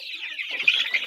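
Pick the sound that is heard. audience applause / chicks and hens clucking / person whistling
chicks and hens clucking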